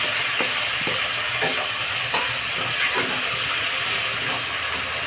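Tomatoes dropped into fried onions for Punjabi sarson ka saag set off a steady, loud sizzle and hiss in the pan, broken by a few soft clicks of stirring, with no voices.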